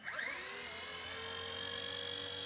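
A Blade Nano S2 micro RC helicopter flying indoors gives a steady high-pitched rotor and motor whine that climbs as it spools up, then holds level and fairly faint, with no one talking.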